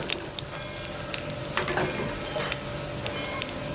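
Onions and cumin frying in a pan for plantain dishes, a steady close crackling sizzle with small pops and light scraping as they are stirred.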